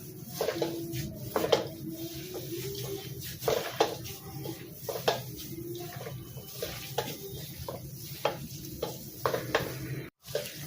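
Ground meat and two eggs being mixed by hand in a bowl for lumpiang shanghai, a run of wet squelching and clinking knocks against the bowl in an irregular rhythm, close and moderately loud, with a brief silent gap near the end.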